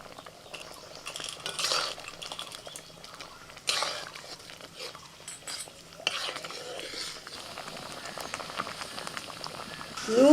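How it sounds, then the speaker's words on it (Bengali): Sour lentil dal with chalta (elephant apple), salt and turmeric bubbles in a pot with a soft, continuous simmer, broken by a few clinks of a spoon against the pot, and no clear speech. "নুন হলুদ দিয়ে একটু ফুটিয়ে নিয়েছি"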